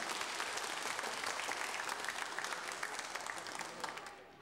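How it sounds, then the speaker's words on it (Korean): A studio audience at a 1983 Korean live broadcast reuniting separated families claps in congratulation, steady full-room applause that tapers off slightly at the close. "여러분 축하의 박수를 보내주세요."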